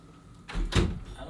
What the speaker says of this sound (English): Let me close these doors real quick.